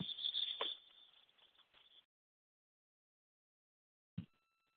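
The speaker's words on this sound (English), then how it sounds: "my alarm went off" An alarm goes off during a phone conversation, sounding as a high, steady electronic tone for about two seconds that then cuts out, followed by silence and one brief click.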